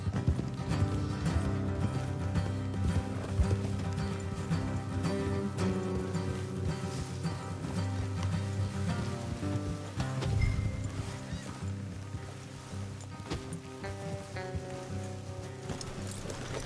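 Horse hooves clop steadily with occasional whinnies in the video game Red Dead Redemption 2, over a dense bed of music and ambient noise, continuous throughout.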